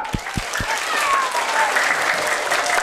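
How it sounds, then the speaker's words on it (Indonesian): A crowd of students at a Maulid celebration breaks into steady applause after a few separate claps, the clapping dense and sustained. "Tepuk tangan dong."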